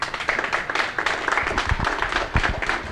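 Audience at the Goliath 2023 event applauding, dense steady clapping with scattered cheers, close and loud throughout.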